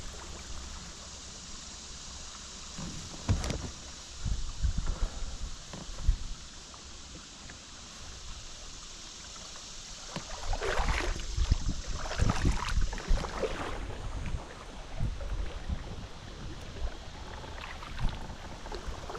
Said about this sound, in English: I get used to this paddling right here.